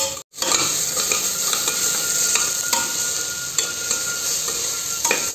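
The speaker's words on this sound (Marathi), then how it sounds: "आणि आता पहिले तर आपण कांदे परतून घ्यायचे चांगले बिन तेलाचे" Onions dry-roasting in a pan without oil while being stirred for a village-style chicken curry: a steady close sizzle with repeated scraping spoon strokes against the pan, alone.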